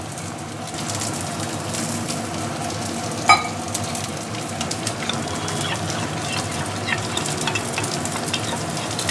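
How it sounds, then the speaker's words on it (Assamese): Spoon scrapes through coriander, cumin and turmeric powder with a little water for a fish curry, set against a steady background sizzle of onions frying, with one sharp clink partway through. "এতিয়া মই গোটেইখিনি অলপ পানী দি মছলাটো মিলাই ল'ম"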